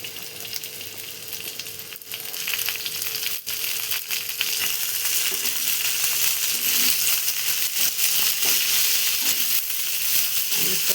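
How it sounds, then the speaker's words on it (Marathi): Okra hitting a pan of frying chillies and garlic sets off a loud continuous sizzle, with scraping stirs and occasional metallic clinks close up. "चला आपण भेंडी टाकून घेऊ"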